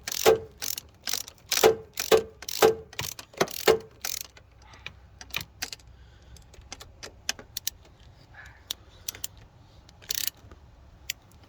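A ratchet tightens a part on a 2009 Chevrolet Cobalt during a coolant temperature sensor repair. Several close bursts of quick clicking come in the first few seconds, followed by scattered lighter taps and metallic clinks.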